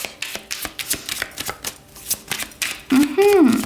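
Tarot cards are shuffled by hand in a quick run of crisp riffling snaps. Near the end a voice briefly speaks over the shuffling.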